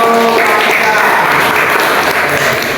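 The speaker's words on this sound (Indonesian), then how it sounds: "Ya betul, kasih tepuk tangan." Loud, close applause from a classroom full of students during a lesson, sustained clapping with voices mixed in.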